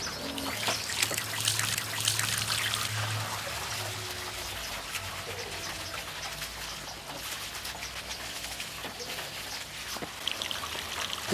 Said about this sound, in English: We have distributed the pine needles on the roof and now rinse them with water.